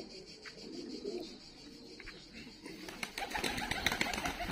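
Georgian fighting pigeons in Tbilisi, Georgia, give soft, low cooing amid close rustling and fluttering wings, growing busier and louder toward the end.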